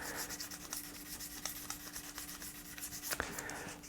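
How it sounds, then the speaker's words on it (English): A guitar body is wet-sanded with P600 grit sandpaper, giving a steady close rubbing hiss with rhythmic back-and-forth strokes and no talking. "Then I'll jump to the P600, and that's going to replace the 400 grit scratches with 600 grit scratches."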